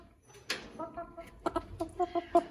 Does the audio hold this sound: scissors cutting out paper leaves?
no